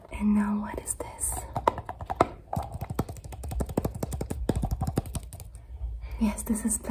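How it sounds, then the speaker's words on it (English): Plastic is handled in a quiet ASMR-style setting, with a run of close, crisp crackling taps and crinkles. A soft whispered voice is heard at the start and again near the end. "Yes, this is plastic, you're right."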